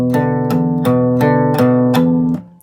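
A guitar riff is picked across strings six, five and four in a quick repeating pattern, with six sharp plucked attacks ringing close and loud together before the final note fades.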